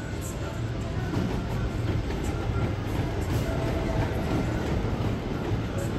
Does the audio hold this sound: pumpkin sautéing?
no